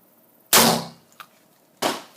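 Two loud, close blasts from a Mossberg 930 JM Pro shotgun, about 1.3 seconds apart, each with a sharp onset and a short decaying boom, plus a small mechanical clack in between.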